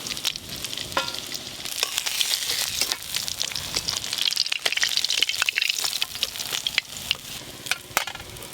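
Loud, dense sizzling of bhola river fish frying in hot oil, with scattered crackles and occasional utensil scrapes, close up and continuous.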